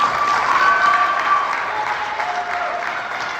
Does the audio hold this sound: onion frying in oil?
no